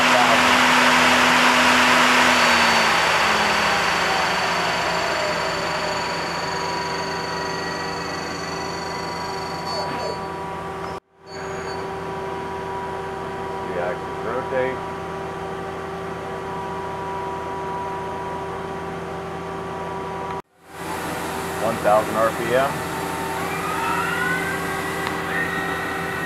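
A Mazak Integrex 200Y machining centre spindle runs at a steady 5,000 RPM, a continuous machine hum with sustained tonal whine that holds level throughout, briefly cut by two short dropouts, with no talk over it.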